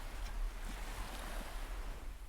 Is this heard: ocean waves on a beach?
yes